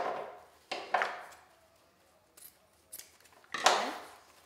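Scissors snip through a stiff trailing end while finishing a metal Easter basket centerpiece; a few separate sharp cuts with short rustles between them, close and fairly quiet, and no one speaks.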